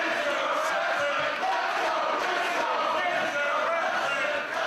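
A pro wrestling crowd roars steadily throughout a Ring of Honor match, a loud, dense wall of cheering and shouting with no break.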